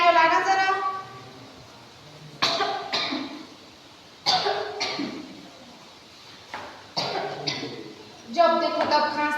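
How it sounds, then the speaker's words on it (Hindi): A woman coughs repeatedly in harsh, separate fits spaced a couple of seconds apart, close by, with brief speech at the start and end. "जब देखो तब खांसती रहती है।"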